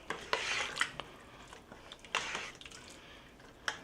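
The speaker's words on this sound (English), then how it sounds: "Now for the next ingredient is our black beans. These have been cooking for a couple of hours now. Right into that dish. There we go. Let it stirred down." Cooked black beans, simmered for a couple of hours, are stirred into a hearty chili in a dish, with a few sharp clinks of utensil against the pot over soft scraping.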